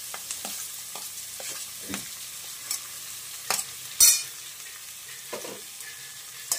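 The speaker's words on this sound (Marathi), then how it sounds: "कांदा थोडासा परतल्यानंतर बटाटा आणि गाजर हे परतून घ्यायचं" Chopped potato and carrot sautéing with onion in a pan, giving a soft continuous sizzle broken by light scraping stirs and a sharp clack near the middle, close and alone with no speech.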